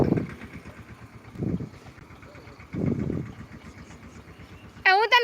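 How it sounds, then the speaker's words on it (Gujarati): A farm tractor engine idling nearby, a steady low chugging with three heavier surges, ending in a brief high warbling sound. "અત્યારે આપણું ટ્રેક્ટર આવી ગયું છે."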